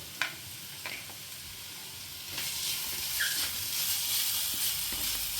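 Mustard seeds crackle and splutter in hot oil, with sharp pops scattered over a soft, steady sizzle that swells toward the end, quiet and close with no voices.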